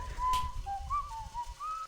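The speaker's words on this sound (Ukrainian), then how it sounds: "Не свисти грошей не буде." Whistling in the horror video game Baldi's Basics: a thin, wavering melodic whistle of short gliding notes over a low rumbling background, fairly soft and with no speech.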